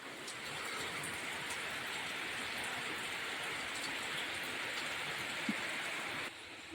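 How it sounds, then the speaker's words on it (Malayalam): Steady, dense rain pours down in a constant hiss of drops, even and unbroken, with no voices. "കണ്ടോ ഒരു നിവർത്തിയില്ലാത്ത മഴ"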